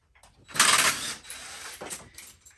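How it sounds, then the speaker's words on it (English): A ratchet fitted with an extension and a 13 mm socket, used while assembling a Tao Motor Bull 200 ATV, gives a burst of close mechanical clicking and ratcheting, then a few quieter follow-up clicks. "Take the extension and a 13 millimeter socket."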